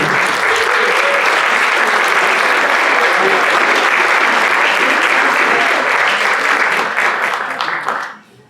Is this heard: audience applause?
yes